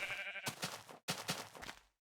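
Pink sheep in Minecraft bleating in two short bursts of repeated bleats with a brief gap between, fairly close and clear, no talk.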